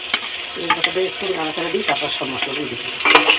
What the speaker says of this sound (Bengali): পেঁয়াজটা দিয়ে বেশ কিছুক্ষণ কষিয়ে নেব